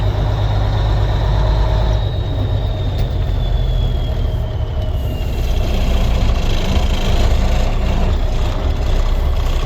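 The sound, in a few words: 1992 International 9200i truck with N14 engine running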